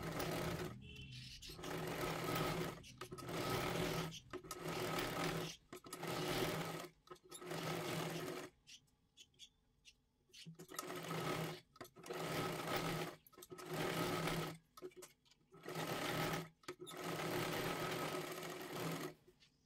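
A sewing machine stitches a blouse lining in repeated bursts, loud rapid whirring runs of a second or two separated by short pauses, with one longer quiet break midway.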